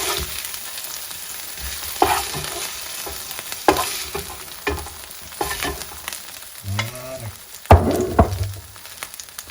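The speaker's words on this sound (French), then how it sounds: "on va faire cuire nos légumes" Vegetables sizzling in olive oil in a pan for a spicy Basque chicken dish, a constant close crackle with a utensil scraping and clacking as the pieces are stirred, no talking.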